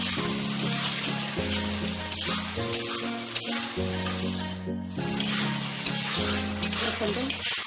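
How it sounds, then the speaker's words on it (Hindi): Onions with ginger-garlic paste frying and being stirred in a pan for a mutton and potato curry, a steady close sizzle with repeated scraping stirs throughout. "गोटे बटा पियाज सब पकेदेव। भल भाव कषिबे।"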